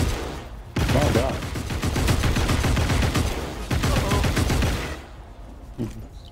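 Energy weapons firing in the free-to-play shooter Hawked, with dense sustained bursts of rapid fire that stop and then resume, and a pause near the end.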